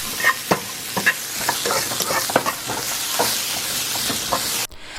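Shrimp burgers frying in extra olive oil in a non-stick pan, a close, loud crackling sizzle with popping spatters and a few utensil taps, cutting off abruptly at the end.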